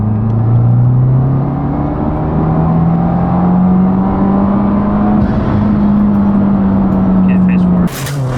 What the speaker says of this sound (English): Okay, here's a 3rd gear pull.